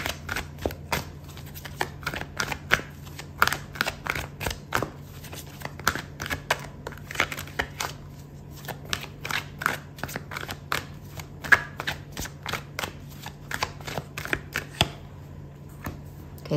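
Tarot cards being shuffled by hand during a reading, a close, rapid run of crisp flicks and snaps with short pauses, heard alone without talking.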